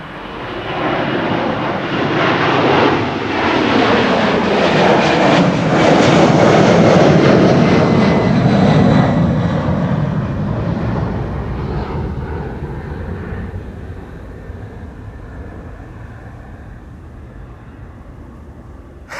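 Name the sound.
United Airlines Boeing 767-300 jet passing at Amsterdam Schiphol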